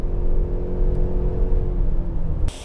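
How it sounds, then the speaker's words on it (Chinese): A four-year-old Toyota RAV4 2.5-litre hybrid, with a 155 hp engine and 197 hp combined, accelerates hard. From inside the cabin it gives a steady, loud low rumble and whir that cuts off abruptly at the end. "就像我现在这样重踩，其实它可以瞬间可以提出它的马力"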